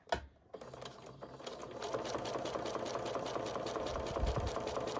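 Domestic sewing machine stitching a quilt block seam at a slow, steady speed, its needle strikes forming an even mechanical chatter that runs continuously after a brief start, close and moderately loud with no talking.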